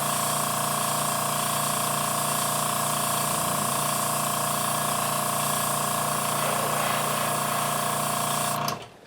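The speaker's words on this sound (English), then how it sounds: "always have something you can turn your airbrush to real quick, just to spray, get that little bit of buildup out of the way" Airbrush spraying paint while a model Enterprise refit is built: a steady, close, continuous hiss with a faint compressor hum underneath, running unbroken for several seconds before cutting off sharply at the end.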